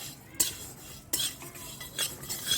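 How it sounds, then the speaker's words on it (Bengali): Whole spices, nigella, fennel, cumin and fenugreek, fry in a pan while a utensil stirs them, giving a few sharp metallic scrapes and taps over a soft, steady background hiss. "এবারে সব মশলাগুলো ওর মধ্যে দিয়ে ভেজে নেব"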